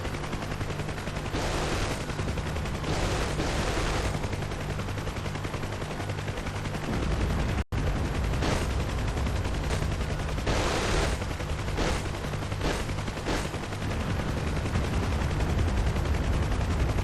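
Huey helicopter door gunners fire machine guns in the DCS World combat game, letting off repeated bursts of rapid gunfire over a constant rotor drone, with short pauses between volleys.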